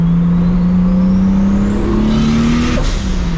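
A 750HP MKIV Toyota Supra accelerates hard on a test drive, its loud engine drone climbing steadily in pitch up to a shift near the end, heard close from inside the car with no talk.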